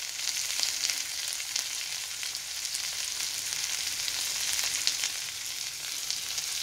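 Chilli soybean gravy sizzles steadily in the oil left from frying the soybeans, a dense, even crackle that holds close and loud throughout with no voices.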